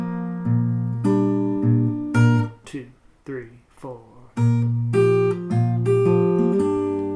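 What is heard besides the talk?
guitar playing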